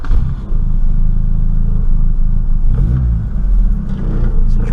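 A car with stale petrol in the tank starts on the button and revs, its loud low rumbling engine running steadily with swells as the throttle is blipped.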